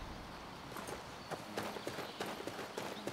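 A horse's hooves clip-clop along a road in the video game Skyrim, a run of sharp, fairly close strikes in an uneven gait over a soft background hum, gaining pace toward the end.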